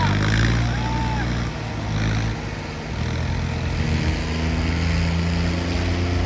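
A heavy tractor engine drones loudly and steadily throughout at a tractor pulling competition, a low rumbling idle with slight dips, with no clear speech.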